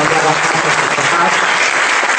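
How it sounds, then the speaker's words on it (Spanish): An audience claps for children at a live show, a dense burst of applause filling the whole moment loudly and evenly. "Démosles un aplauso apoteósico a estos niños."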